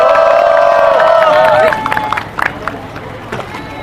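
A crowd at an outdoor candlelight rally in a station square in Daejeon breaks into applause and cheering, loud at first and then thinning into scattered claps and murmurs.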